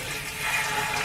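Water poured into an RV toilet that drains to a black tank, heard as a steady, fairly loud rushing pour that swells slightly partway through, with no talking.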